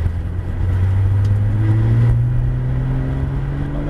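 Steady, loud engine drone of a Porsche GT3 RS accelerating on the wet Abbeville circuit, the pitch rising gradually as it pulls through a gear, heard from inside the car.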